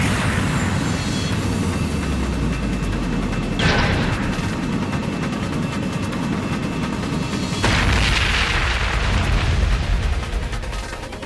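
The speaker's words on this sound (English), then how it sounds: "Is that a long-range orbital cannon?" A long-range orbital cannon fires in Trails of Cold Steel 2, with deep booming blasts and rumbling explosions at about 3.5 and 7.5 seconds over a continuous loud low roar.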